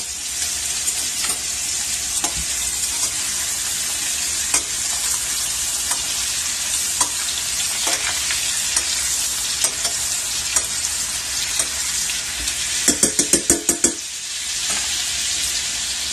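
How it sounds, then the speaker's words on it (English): Ahi tuna searing in a pan with melted butter, a loud continuous sizzle throughout, with a brief burst of spoon clatter and spattering near the end as the butter is basted. "put the butter in the pan with this. And as this melts down, you can take your spoon and baste it with the butter"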